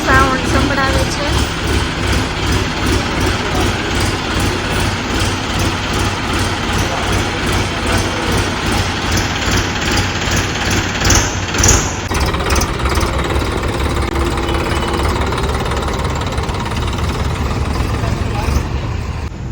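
A 10-35 tractor engine idles steadily in a tractor showroom and warehouse, a loud continuous low throbbing with a regular beat and some brief higher mechanical noise, while people talk nearby.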